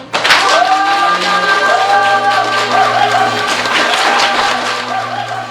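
Small audience applauding to welcome a guest at a special broadcast, steady clapping with a few light cheers under background music, lasting several seconds.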